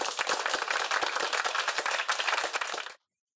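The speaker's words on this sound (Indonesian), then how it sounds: "tepuk tangan." Hand clapping from a small group during a campus talk show, a brisk burst of sharp, closely spaced claps, fairly loud and near, that stops abruptly after about three seconds.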